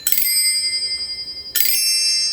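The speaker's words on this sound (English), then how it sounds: "It's called a tree bell, and you would strike it like this." A bright metallic tree bell is struck twice, each strike ringing out with a shimmering, sustained high tone that slowly decays.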